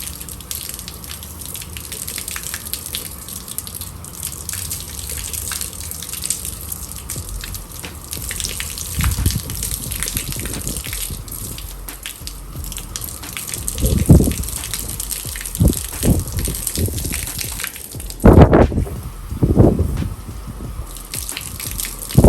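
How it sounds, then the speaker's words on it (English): Water sprayed to rinse a dirty car panel, a steady gushing hiss that runs throughout, joined later by several louder bursts and splashes as the stream strikes the bodywork up close. "let's start with a rinse on the dirty panel"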